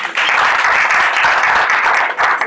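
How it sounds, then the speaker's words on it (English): Loud, sustained applause from an audience at a city council runoff candidate forum, steady dense clapping throughout with a brief dip near the end. "Give her a big round of applause."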